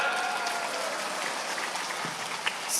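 An audience at an Islamic sermon gathering in Kalibaru, Banyuwangi applauds after a donation total is announced, a steady, fairly dense clapping with a few sharper claps standing out near the end.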